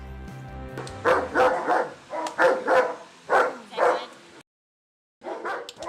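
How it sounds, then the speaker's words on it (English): A guard-type dog barks loudly and close by in a steady series of about six sharp woofs, pausing briefly before barking again, with no talk over it. "Throughout history, dogs have been used as watchdogs"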